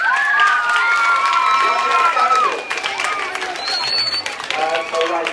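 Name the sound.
audience applause for Shaun Brown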